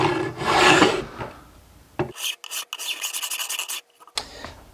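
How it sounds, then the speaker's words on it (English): A metal file glued at an angle into a wooden block rasps along guitar fret edges to bevel them, giving a steady close-up scraping rub in short bursts with brief pauses. "a file that I've glued into this block of wood on an angle, and that's going to give me a nice consistent bevel on the edges of the frets"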